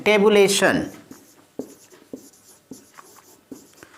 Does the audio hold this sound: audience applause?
no